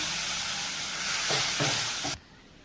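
Lentils (dal) frying in hot oil with onion and garlic, a steady loud sizzle with a few scraping stirs near the end before the sound cuts off abruptly; no talking.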